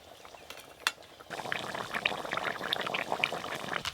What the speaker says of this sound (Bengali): এবার একটু ভালো করে ফুটিয়ে নিয়েই তারপর নামিয়ে নেব